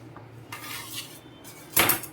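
A knife slices through a soft, freshly baked banana cake, giving a few quiet scraping strokes and then one sharper clatter of metal against a plate or pan near the end.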